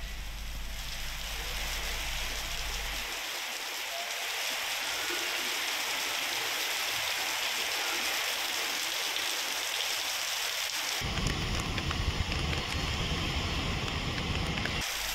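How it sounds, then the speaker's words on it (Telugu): Steady, dense hiss of heavy rain pouring down in Hyderabad's Himayatnagar area, a continuous wash of sound with low rumble early on and a brighter, louder rush in the final seconds. "హిమాయత్ నగర్లో వర్షం పడుతోంది."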